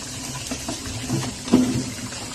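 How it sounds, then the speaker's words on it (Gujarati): A tub is refilled with water for washing sliced potato wafers, giving a close, gurgling, splashing flow that swells briefly near the end. "ટપ પાછું ભરી આપણે બધી જ વેફર તેમાં ઉમેરી દઈશું"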